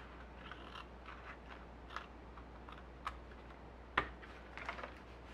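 Scissors cut painted paper for homemade envelopes: a handful of quiet, crisp snips and ticks spaced irregularly over a faint steady hum, with one sharper cut near the end.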